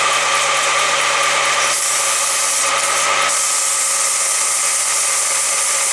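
Sandpaper held against a spinning wheel rim on a homemade lathe-style polishing jig gives a steady, loud abrasive rubbing hiss over a constant motor hum, with brief shifts in pressure partway through and no talking.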